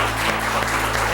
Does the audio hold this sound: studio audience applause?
yes